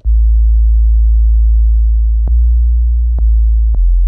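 A deep, sustained Roland TR-808 bass tone hums steadily, broken by three short clicks where the note shifts to a new pitch.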